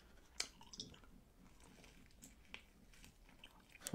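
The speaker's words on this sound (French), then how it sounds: "Elle mange une araignée, d'accord." Soft, close chewing and squishy bites come from someone eating a spider in an ASMR setting, quiet wet mouth sounds in irregular bursts with no talk.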